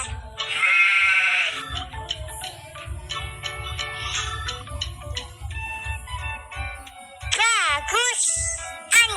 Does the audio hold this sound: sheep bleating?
yes